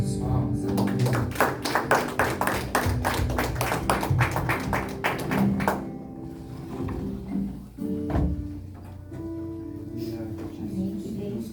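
A worship congregation claps hands in a steady rhythm for several seconds, loud and close, together with singing and music. The clapping fades away partway through.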